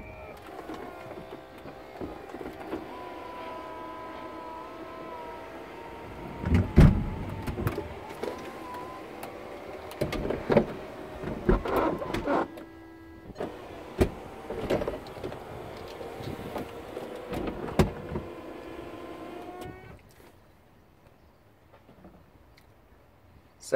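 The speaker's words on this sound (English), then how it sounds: "we can watch that roof go up and down now" A VW Eos convertible roof with sticking flaps runs through its power cycle, a steady electric motor whine with clunks and latch knocks as the roof opens and closes, ending in quiet after about twenty seconds.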